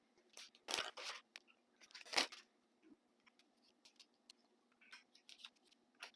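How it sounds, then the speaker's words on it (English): Board game cards for Wander: The Cult of Barnacle Bay are shuffled up close, giving quiet papery riffles and a couple of sharper snaps in an irregular rhythm. "now we just gotta shuffle, do a lot of shuffling"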